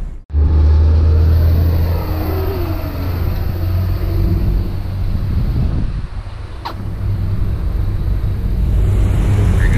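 BMW 120i fitted with M3 wheels, its engine giving a loud, steady low rumble with a slight rise in revs, heard close with wind buffeting the microphone.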